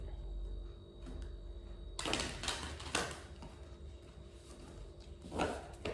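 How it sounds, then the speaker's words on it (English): Tarot cards being shuffled by hand, a quiet start then bursts of riffling, flicking card sounds, fairly close and alone. "Okay, one more shuffle."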